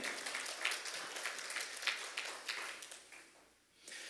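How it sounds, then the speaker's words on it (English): A church congregation gives a hand clap of praise during a sermon, soft, distant diffuse applause that thins out and fades near the end before picking up again briefly. "give God a hand clap of praise"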